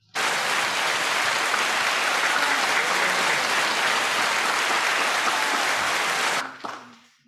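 A chapel audience bursts into sustained, dense applause that holds steady and loud for several seconds, then fades off abruptly near the end with a few scattered claps trailing.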